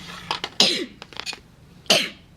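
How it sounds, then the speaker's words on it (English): A close, sharp sneeze-like burst followed by small breathy sounds and a second forceful expulsion a moment later. "Forgive me, I'm going to sneeze."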